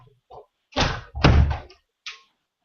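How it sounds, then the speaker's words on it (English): An office door is swung shut indoors: a few soft bumps lead into two loud, close thudding slams, then a brief lighter knock as it settles. "I'm gonna go close my office door really quick"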